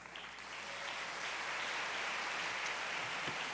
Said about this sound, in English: a round of applause to all of this year's Silver Knight Award sponsors